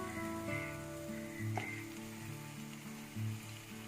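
Chicken pieces sizzle and are stirred over high heat in a hot pan for Chettinad chicken curry, a moderate frying hiss with a brief sharp scrape midway, under sustained background music.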